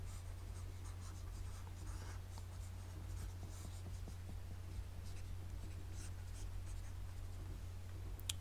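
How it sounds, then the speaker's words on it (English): Handwritten math homework is erased from a page: a continuous soft scrubbing, close but faint, runs throughout over a low steady hum, with no talking. "I'm just going to take a moment to erase all this extra work"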